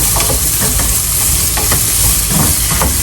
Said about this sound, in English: I would stir that for about a minute.